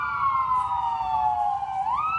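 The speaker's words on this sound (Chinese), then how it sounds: "消防车火速到场。" A fire engine's siren arrives at a burning sheet-metal metalworking factory in Hsinchu. Its loud wailing tone holds steady and dips slightly, then sweeps upward near the end, with no voices over it.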